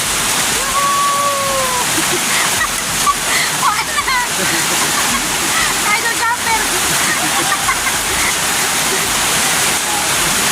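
Heavy rain pours down outdoors, a dense continuous wash with splashing and sloshing as people bathe in it, while voices talk and call out over the downpour.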